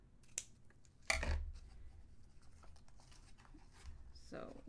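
Scissors trimming card paper for a 5 x 7 card gift box: a few sharp snips and a paper crinkle, close and quiet, with faint room noise around them.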